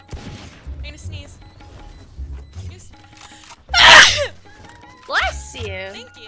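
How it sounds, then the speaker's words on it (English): A single loud, explosive human sneeze bursts out midway, followed by a smaller sharp burst, with people talking and laughing around it during a gaming stream. "I sneezed right into my hand"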